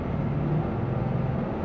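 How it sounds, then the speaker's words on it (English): A pickup truck's engine fitted with a new K&N cold air intake revs under throttle, a steady low rumble that holds fairly even throughout with no talking. "I'm gonna hit the gas for the oomph."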